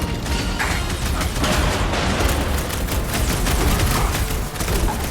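Sustained, dense gunfire from a fight in the Guardians of the Galaxy video game, a loud continuous barrage of rapid shots and mechanical clatter running through the whole stretch.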